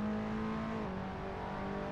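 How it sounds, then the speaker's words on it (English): KTM X-Bow GT4 race car engine in the Assetto Corsa racing game, a steady droning note that holds, dips slightly and holds again, loud and continuous throughout with no talk. "it's the sound of the already existing X-Bow in Assetto Corsa"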